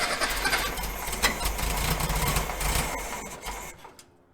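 Engine of a barn-find Volkswagen Thing, sitting over 20 years after an engine swap, cranking on the starter with a steady rapid chugging churn for about four seconds before cutting off.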